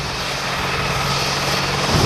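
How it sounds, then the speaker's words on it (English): An AH-64D Longbow Apache attack helicopter passes with a loud, steady broadband roar of engine and rotor, constant and close, with no voices. "The AH-64D Longbow Apache is the most capable and most lethal attack helicopter"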